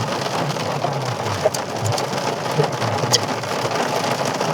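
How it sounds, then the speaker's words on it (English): Heavy rain pounds down during a road trip from Harare to Mutare, a dense, loud, steady hiss of drops drumming on a surface with scattered sharper splats and no voices. "Guys, it's raining so heavy."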